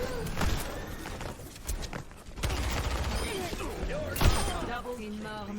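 Sniper rifle shots in Overwatch 2, with Widowmaker in play: a few sharp cracks spaced through busy game noise, one loud report near the end, amid other gunfire and footsteps.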